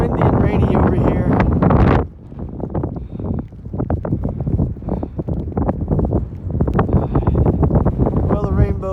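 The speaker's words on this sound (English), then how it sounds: "Man, it's nice and windy and rainy over here." Strong wind buffets the microphone in rainy, foggy weather on Saddleback Mountain along the Appalachian Trail, loud and gusty throughout, with a person talking over it.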